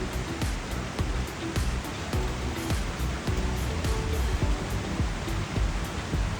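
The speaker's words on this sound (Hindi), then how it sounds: "आवाज सुन के तो लग रहा है इतना जोर से बारिश हो रहा है।" Heavy monsoon rain in the hills between Darjeeling and Lava pours down as a dense, loud, unbroken hiss, with scattered nearby drips and knocks on top and no one talking.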